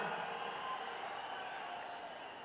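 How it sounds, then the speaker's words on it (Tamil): Applause from a crowd at a political rally speech in Madurai, a steady continuous clapping wash that holds evenly throughout at a moderate distance. "அண்ணனுக்கு இந்த கைத்தட்டெல்லாம் பத்தாது"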